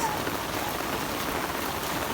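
Heavy rain pours down steadily, a dense even hiss of drops on surfaces that holds at one level throughout without pause or voices.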